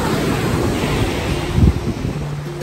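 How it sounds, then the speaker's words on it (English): Surf washing onto a white-sand tropical beach at Fort Pickens, a steady wash of waves with heavy wind buffeting the microphone and one louder swell near the end. "White sand and crashing waves."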